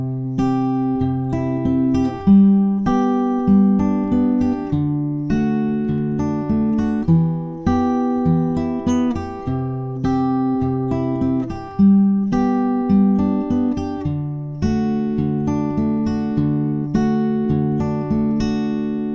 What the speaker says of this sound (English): So in total, the chorus finger picked will sound like this.